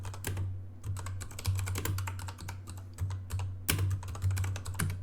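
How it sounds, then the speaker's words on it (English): Single-finger typing on a computer keyboard: irregular, sparse key clicks in uneven bursts, close and fairly crisp over a steady low background hum, with no talking. "I'm getting much faster at typing with one finger over here"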